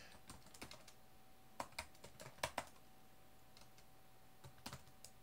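Typing on a computer keyboard, a handful of soft close keystrokes in short irregular clusters with gaps between them, quiet against a faint steady hum.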